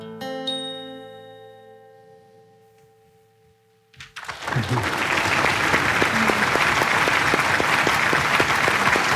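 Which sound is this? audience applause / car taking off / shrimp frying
audience applause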